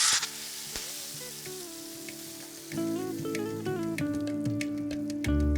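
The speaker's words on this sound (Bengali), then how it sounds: "আর ততক্ষণ ভাজুন যতক্ষণ না কাজুটা একটু লাল লাল হয়ে ভাজা হয়ে যাচ্ছে।" Cashews frying in oil in a pan for pongal, giving a steady soft sizzle throughout, partly masked by melodic background music that grows louder midway.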